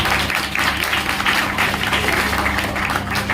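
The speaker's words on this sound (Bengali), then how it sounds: "তার জন্য একটা জোরে হাততালি হয়ে যায়" Loud, steady applause from an audience honouring a coaching-centre teacher at a gathering, a dense clapping texture that holds evenly for several seconds.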